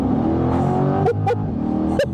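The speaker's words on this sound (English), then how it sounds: "You gotta love the way that engine sounds." A 2024 Chevrolet Corvette Convertible with the performance exhaust drones close by in a steady, throaty rumble that holds level throughout, with no talk.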